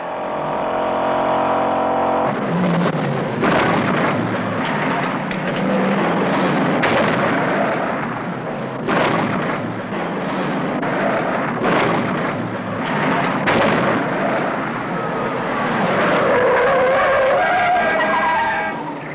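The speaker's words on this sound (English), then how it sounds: "this is some of the scene from that famous movie Bullet" Car chase from the movie Bullitt on San Francisco streets, with repeated tire screeches and skids, roaring engines and sharp bangs, loud and dense with no talk throughout.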